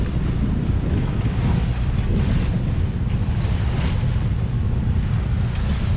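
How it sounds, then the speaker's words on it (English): Waves and strong wind buffet a sailboat motoring at three-quarter throttle through rough open sea near the BVI, a steady loud roar of wind and surf that never lets up, with no voices. "Don't like pushing the engine to 3/4 throttle and the waves are hitting us and slowing us right down"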